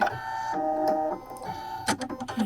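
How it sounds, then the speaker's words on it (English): A Brother sewing machine's automatic needle threader works with a short run of mechanical whirring and clicks, a sharp click near the end, close and clear with no talking. "on this model, we actually have a needle threader button"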